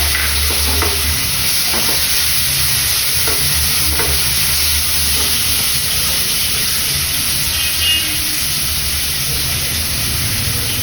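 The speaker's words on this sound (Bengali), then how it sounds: "এখানে আমি প্রথমে চিংড়ি মাছটা ফ্রাই করে নেবো।" Prawns frying in hot oil give a loud, constant sizzle with occasional stirring scrapes, close up and continuous, with no talk.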